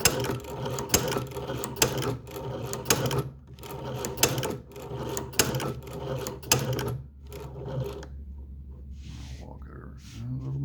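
A leather shoe patcher sewing machine stitching a diamond stitch on a leather test piece, a fast mechanical clatter of needle strokes in bursts with brief pauses, close and fairly loud, winding down near the end.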